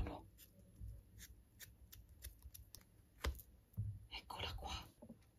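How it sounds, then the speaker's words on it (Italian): Scissors snip through the tip of a pink beauty blender makeup sponge in a series of close, crisp little cuts and clicks, with soft whispered speech in between. "con le forbici la andiamo a tagliare nella punta"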